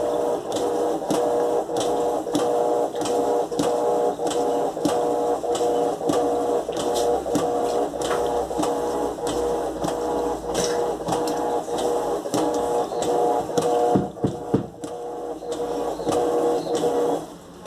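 An Electrolux LTE12 washing machine churns a load of coloured clothes, its agitator thumping in a steady, regular rhythm over a constant mechanical hum, close and fairly loud, with a brief clunk and pause near the end.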